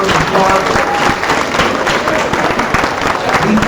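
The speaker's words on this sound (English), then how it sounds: "So if you could please give your teachers a great round of applause." Loud, close applause from a crowd honouring teachers at a student event, vigorous clapping throughout with a few cheering voices mixed in.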